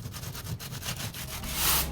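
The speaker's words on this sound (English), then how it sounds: "I really want to get any paint that's unsound off and areas that need to be exposed by giving the problem areas a very, very good sand" Rhythmic rough scraping of 60-grit sandpaper rubbing back and forth across painted corrugated roof sheeting, steady strokes, close and fairly quiet.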